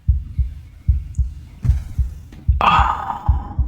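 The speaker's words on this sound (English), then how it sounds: "Listen to the heartbeat, too." A slow, deep heartbeat from the video game Slay the Princess thumps in steady double beats, close and heavy, with a brighter swelling tone rising over the last second.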